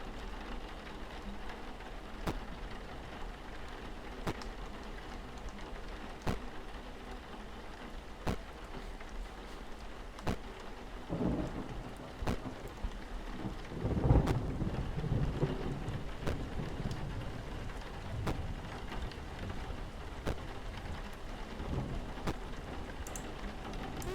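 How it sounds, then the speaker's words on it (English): Steady rain beats against a window in a thunderstorm, a dense continuous hiss with a swell of heavier spatter and low rumbling near the middle, no voices. "See the rain spattering the window."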